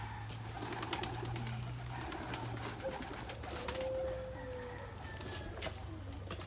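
Pigeons coo softly in a quiet outdoor spot during bird testing, low repeated cooing notes with a few faint chirps and clicks over a steady background hum.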